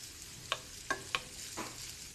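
Large peeled, deveined shrimp cut into half-inch pieces sizzle in hot oil for Singapore noodles, a steady quiet frying hiss broken by four sharp spatters or utensil clicks.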